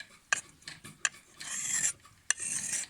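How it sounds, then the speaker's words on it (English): A billhook blade is pushed across a sharpening stone with a few rough rasping strokes, each one opening with a sharp click, close and clear with pauses between strokes. "I'm just going to sharpen each part of it. I'm going to go down, pushing it away."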